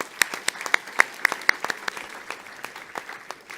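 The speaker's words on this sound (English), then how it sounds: "Give them a round of applause." Audience at an EU influencer event gives a round of applause, starting with a few sharp, evenly spaced claps in a near-regular rhythm, then looser scattered clapping from a small crowd, fairly close and moderate in loudness.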